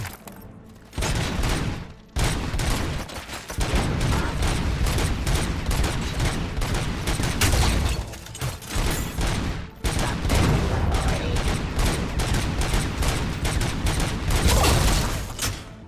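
Sustained gunfire from shooting enemies in RoboCop: Rogue City, loud rapid volleys of shots nearly continuous across the span, with brief pauses and a few heavier booms mixed in.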